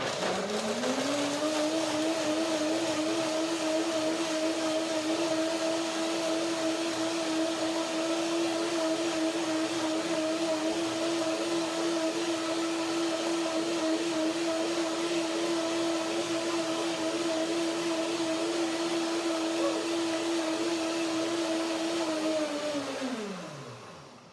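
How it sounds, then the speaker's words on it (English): A blender whirs through salad dressing ingredients for a curry peanut dressing, a loud, constant high motor whine held for over twenty seconds before winding down sharply at the end, with no voices. "to begin the first blending, a small amount is better to get everything into the blender dance"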